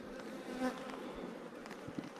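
Honeybees buzzing steadily at close range in an opened hive in January, a dense continuous drone with individual bees passing near.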